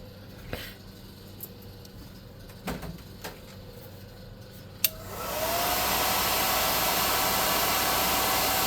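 A few light clicks and taps, then a hair dryer switches on and blows steadily and loudly at close range over a freshly painted miniature figure, its motor pitch rising as it spins up.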